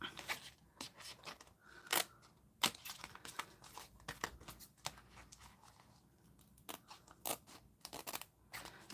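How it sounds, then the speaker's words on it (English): Scissors snip around paper ephemera in a rapid series of crisp, close cuts with light paper rustling between them, quiet and without speech. "So just cut around here."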